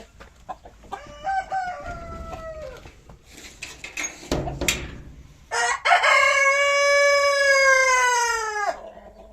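Roosters at a poultry farm crow in loud, drawn-out calls, one early and a longer one near the end, with clucking and scuffling noises in between, close by and without talk.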